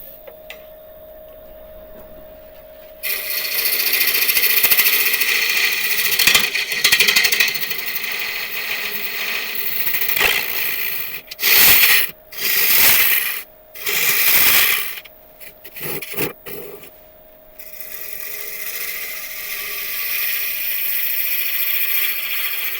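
Holm oak being turned on a wood lathe to form a tenon: a loud, steady broadband cutting hiss with a faint motor hum, broken near the end by several short bursts of cutting and pauses, then resuming.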